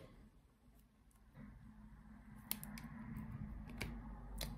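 Scissors cut through a piece of fairly thick cardboard in several crunchy snips, fairly faint and close, over a low steady background hum.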